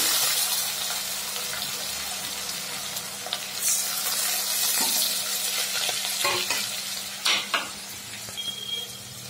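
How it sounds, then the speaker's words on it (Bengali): Spices frying in hot ghee for a Bengali fish-head muri ghonto give a continuous close hiss and crackle, with occasional utensil scrapes and clinks breaking through and no talking. "ঘিয়ে দিই নাহলে মশলাটা নষ্ট হয়ে যায়। ঘিয়ে দিয়ে দিলাম।"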